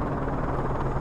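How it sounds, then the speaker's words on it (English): Enemy helicopter in the video game Call of Duty: Modern Warfare 3, a steady, loud rotor drone with a broad rumble and no pauses across a brief moment. "Enemy chopper closing on your position."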